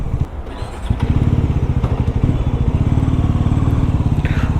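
A new Bajaj Pulsar NS400Z motorcycle being ridden at a steady, moderate speed during its break-in period, its engine droning loudly and continuously up close with a pulsing low rumble throughout.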